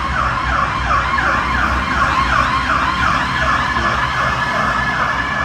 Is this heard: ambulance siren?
yes